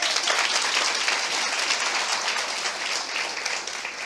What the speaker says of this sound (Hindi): आई गौरंग के लिए ताली बजाएंगे।